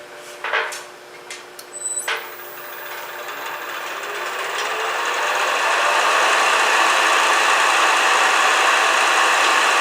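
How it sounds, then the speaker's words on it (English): Wood lathe turning a bottle stopper on a screw chuck, a 3/8 shallow fluted spindle gouge cutting it down to cork diameter; a few sharp taps, then a steady, swelling cutting hiss over a low motor hum, no voices. "So we need to turn this down so it matches the diameter of the cork."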